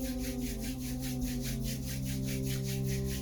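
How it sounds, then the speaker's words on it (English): Hands rubbing together briskly to build warmth, a close, steady swishing friction in a quick back-and-forth rhythm of about ten strokes, heard alone without talking. "rubbing the hands together"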